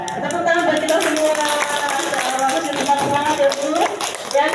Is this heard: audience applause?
yes